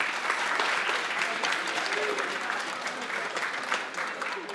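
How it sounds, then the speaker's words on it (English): Steady, sustained applause from an indoor audience at a summer program finale, dense and even throughout with a few faint voices mixed into the wash of clapping. "So clap it up for yourself as well."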